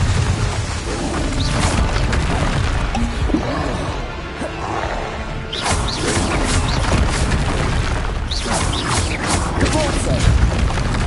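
Confringo blasting spell explosions in Hogwarts Legacy combat, booming bursts recurring over a dense, loud battle din, with game voices calling out spells.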